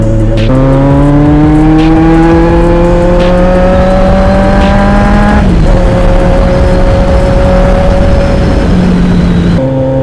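A Kawasaki Z900 motorcycle fitted with a new aftermarket exhaust pipe revs loudly and steadily nearby, its engine note climbing, dropping, then holding at a sustained pitch with no talk over it.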